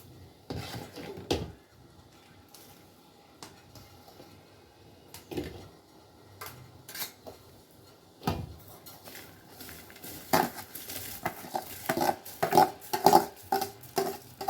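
Washed rice tipped into a pot of mixed chicken biriyani, with scattered metal clinks and knocks of pot and utensils, sparse at first and growing busier toward the end, no voice heard.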